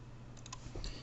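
A short burst of light clicking keystrokes on a computer keyboard while a preset name is typed in Photoshop CS6, a few quick taps, quiet and close, with no talking.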